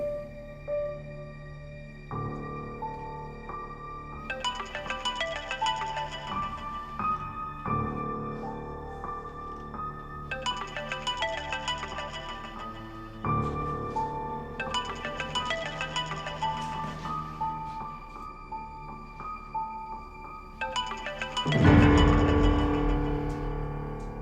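A mobile phone ringtone plays a repeating electronic melody over and over, steady and fairly loud, with a sudden louder burst near the end.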